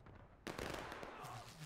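Musket fire crackles in a War of Rights battle at Piper Farm, with a sudden loud burst of overlapping shots after a quieter start, their echoes rolling on through a noisy battlefield din.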